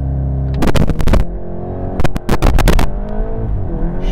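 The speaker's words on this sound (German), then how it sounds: "Jetzt mache ich hier nochmal Launch Control." A VW Golf GTI Clubsport 45 with an Akrapovic exhaust revving hard on launch control, its engine held at a loud droning pitch and cut by rapid staccato pops, then accelerating away with steady rising tone.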